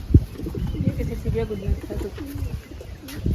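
Pigeons cooing in low, throaty bursts, close by and fairly steady over a short stretch, with bits of other bird noise mixed in.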